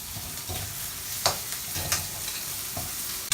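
Chopped onions for paneer bhurji stirred in a frying pan: a steady close sizzle with a few sharp spoon scrapes and clicks spaced about a second apart, no voices.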